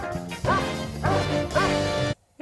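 A dog in a Rocky movie gives three loud, close yappy barks in quick succession, each followed by a short whimpering tail, then the sound cuts off abruptly.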